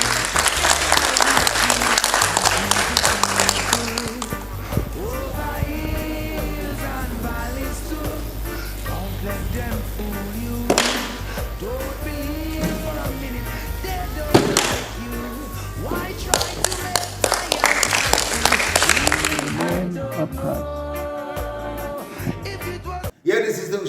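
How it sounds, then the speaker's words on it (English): A crowd at a farewell for a cadet breaks into loud clapping for the first few seconds, then gives way to loud music with a heavy bass line that carries on to the end. "Give him a round of applause."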